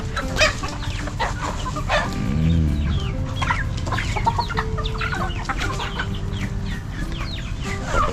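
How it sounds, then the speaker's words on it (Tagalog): Chickens clucking at feeding time in a backyard coop, a busy continuous chorus of close, overlapping clucks and short calls, fairly loud throughout without talk. "Papakain lang tayo ng manok."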